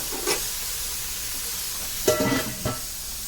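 Onions sautéing in a pan for an amma-style mutton biryani, a steady soft hiss and sizzle with a few brief louder bursts of stirring near the end, no voices.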